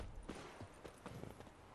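Hooves of a horse clip-clopping in The Witcher 3, a steady run of soft, fairly faint strikes over a diffuse outdoor background.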